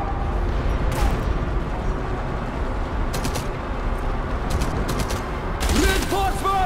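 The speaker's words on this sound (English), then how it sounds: "Maybe that's not the best idea to use MG." Machine gun fire in the World War II shooter game Enemy Front rattles in fast bursts against dense battle noise, with scattered louder shots and a voice speaking briefly.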